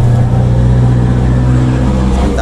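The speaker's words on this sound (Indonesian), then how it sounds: "Sebentar ada mobil lewat ya." A car passes on the street outside, a steady loud low engine rumble that swells slightly toward the end, with no talk over it.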